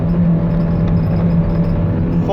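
A car engine holds a steady, loud rev against a slipping clutch, droning close up without change in pitch.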